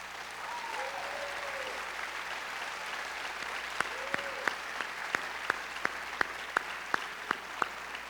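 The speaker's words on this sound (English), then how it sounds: "will you please stand again as we applaud you" A crowd at a high school commencement ceremony applauds school board trustees. The applause is faint and distant, with sharp, evenly spaced claps standing out in the last half.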